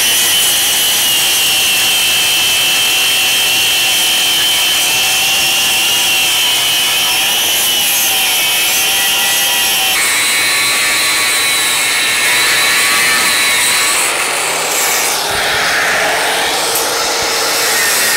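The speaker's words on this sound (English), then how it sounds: "I'm going to take a 4-inch flap disc and I'm going to go after these welds and get them cleaned up" Angle grinder with a 4-inch flap disc grinding down welds on a steel air compressor frame, a loud steady high-pitched whine and rasp running continuously up close, shifting tone near the end.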